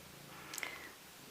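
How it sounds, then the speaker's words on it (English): A house cat gives a soft purr with a brief faint squeak-like vocal note, close and quiet against a low steady background. "Just as my cat has come up here again, you may hear her."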